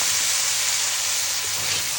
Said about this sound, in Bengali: আমার মশলা কষাতে দেবো।